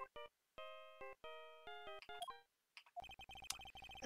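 A cell phone ringtone from Phoenix Wright: Ace Attorney on Nintendo DS plays a bright electronic melody of clean beeping tones, then breaks into a denser, buzzier repeating ring pattern, with no voices over it.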